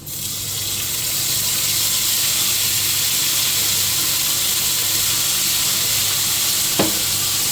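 A masala of onion, ginger, whole cumin, green chilli and tomato hits a hot pan for a fish curry, setting off a loud, close, continuous sizzle that swells in within the first second and holds steady, with a single sharp clink near the end.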